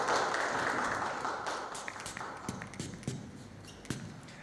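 Audience clapping at a celebration event, a dense wash of applause that slowly fades and breaks into a handful of sharper, separate claps near the end, heard from within the room.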